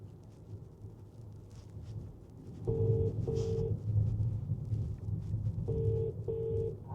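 Phone ringback tone on an outgoing call, two pairs of short beeps repeating at a steady interval over windy, rumbling outdoor background noise.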